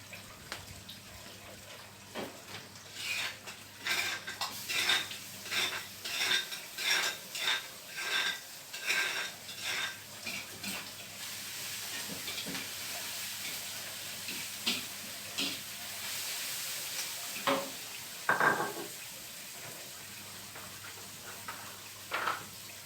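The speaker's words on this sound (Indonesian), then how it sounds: "Kita masukkan cabai yang kita ulek, jadi pakai cabai yang ulek" Ground chili paste sizzles and is stirred in a pan, giving faint repeated scraping and stirring bursts over a low, steady sizzle hiss, fairly quiet and close.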